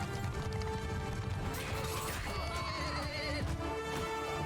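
Cavalry horses neigh and whinny amid a battle in the video game Mount & Blade II: Bannerlord, loud whinnies rising over a constant din of clashing, hooves and crowd noise.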